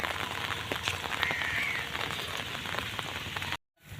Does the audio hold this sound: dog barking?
no